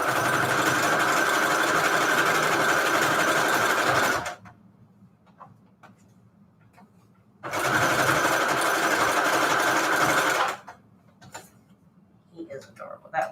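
A sewing machine stitches fabric and lace scraps onto manila tags in two loud, steady runs of about three to four seconds each, separated by quiet pauses with faint handling clicks.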